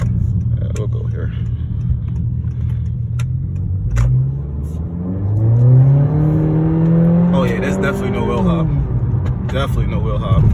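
A 2019 Honda Accord 1.5 fitted with an AEM air intake accelerates hard on an empty street, its engine note climbing steadily in pitch over several seconds, heard from inside the car with people talking over it.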